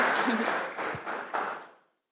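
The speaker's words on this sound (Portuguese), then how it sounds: "Queria que você aplaudisse ao Senhor pela vida dele" Applause from a church congregation at a Presbyterian conference gathering, a dense wash of clapping that swells, dips and surges again before cutting off abruptly after almost two seconds.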